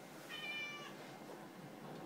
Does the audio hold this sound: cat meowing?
yes